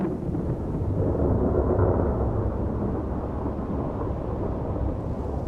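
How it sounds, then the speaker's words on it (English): A thunderstorm in butterfly habitat, with a dense, continuous low rumble of thunder mixed with the steady wash of heavy rain and gusty wind, loud and unbroken throughout. "A thunderstorm can bring gusty winds and large raindrops."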